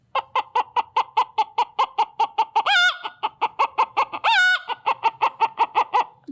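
A girl vocally imitates a hen clucking: a quick, steady run of close, loud, pitched clucks, broken twice by longer rising squawks, with no other sound.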